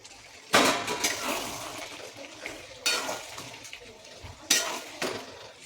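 Mutton cooking in very little oil with fried potatoes and papaya added, giving a steady pan sizzle broken by three loud bursts of stirring and scraping against the pot, with no voices.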